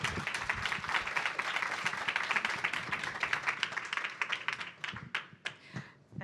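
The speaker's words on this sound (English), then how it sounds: "Huge round of applause." Audience applause at a clean-energy infrastructure event: dense, moderately loud clapping that thins out into a few scattered claps toward the end.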